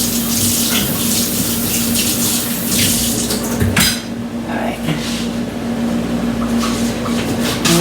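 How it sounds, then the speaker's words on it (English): Water runs steadily from a kitchen tap while hands are washed during salsa preparation with mango, continuous and fairly loud, with a brief dip midway. "So let me just wash my hands."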